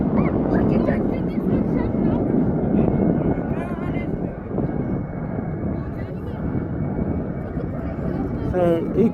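A Jet2 airliner on approach to Birmingham International Airport, a loud, steady broadband engine roar filling the whole stretch with wind buffeting and a voice murmuring faintly underneath.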